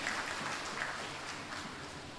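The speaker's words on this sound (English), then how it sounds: "Give him a round of applause, Mr. Hazari Ramdeen." Faint audience applause at an award ceremony, a soft wash of scattered clapping from a distant crowd that continues for a couple of seconds without any speech over it.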